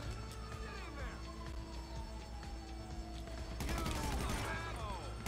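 Gunfire in the GTA Online video game, a busy mix of shots during a police chase, with siren-like tones and crashes rising louder toward the end, under a continuous game soundscape.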